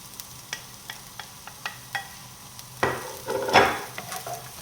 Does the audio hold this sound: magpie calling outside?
no